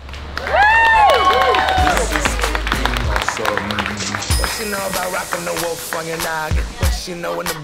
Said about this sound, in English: huge round of applause for the maid of honor, Miss Kristen Gall